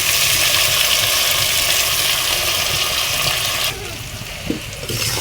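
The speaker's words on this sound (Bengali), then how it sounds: "সমস্ত উপকরণের সাথে শুটকিগুলো বেশ কিছুক্ষণ নেড়ে ছেড়ে ভেজে নেবো" Dried fish fries with spices in a pan, giving a loud, continuous close sizzle that drops noticeably quieter partway through and carries faint stirring clicks, with no talking.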